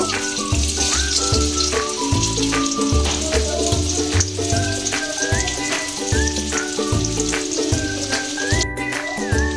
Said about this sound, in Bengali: কড়াইতে আমি সাদা তেল দিয়েছি, তেল গরম হয়ে গেছে। এবার একটা করে আমি সব ছেড়ে দেব।